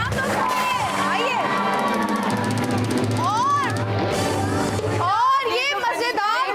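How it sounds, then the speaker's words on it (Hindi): A studio audience at an Eid special entertainment show cheers, whoops and shouts, children's voices among them, in a lively continuous burst of crowd noise and chatter. "भर दी बहुत सारी तालियां तमाम दोस्तों के लिए"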